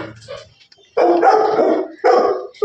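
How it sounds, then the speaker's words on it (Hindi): A dog barks loudly and close by, two bursts of sharp barking with a short pause between them, following a few faint sounds at the start. "दुनिया का सबसे सीधा और बोला कुत्ता है"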